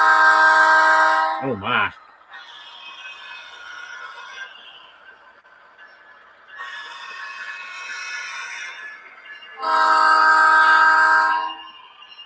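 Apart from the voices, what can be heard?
model train horn tooting, Kato DCC sound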